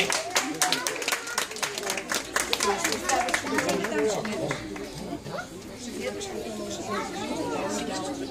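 A kindergarten audience applauds a teacher at a children's event, rapid clapping filling the room alongside lively chatter and voices throughout, steady and fairly close.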